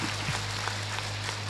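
Faint applause from an audience at the launch of Posdaya for West Nusa Tenggara province in 2012, a soft steady wash of clapping over a low electrical hum.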